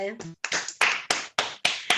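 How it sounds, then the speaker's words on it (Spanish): A few scattered claps from an online audience after a talk on Spanish Golden Age literature, sparse, uneven hand claps coming through one by one over a call, fairly close. "Abran el audio para aplaudir."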